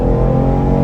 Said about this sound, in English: I'm pulling out in front of traffic on an uphill